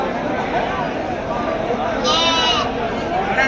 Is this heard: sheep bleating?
yes